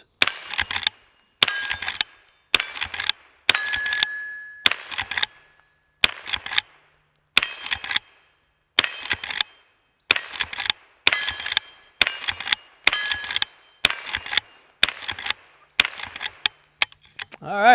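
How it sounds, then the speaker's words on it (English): A Henry H001 Classic lever-action .22 rifle firing long rifle rounds, fifteen sharp close cracks spaced about a second apart, each followed by a brief metallic lever cycling, alone without talk. "If you were counting, that was 15 rounds of 22 long rifle."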